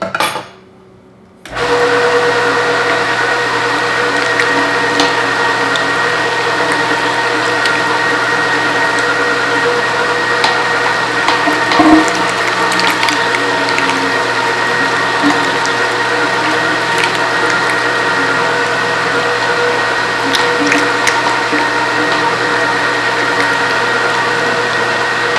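A Fabio Leonardi MR9 meat grinder from Italy grinding pork through a 10mm disc, a loud steady motor hum with a constant whine, running alone for its whole length with faint rubbing under the drone.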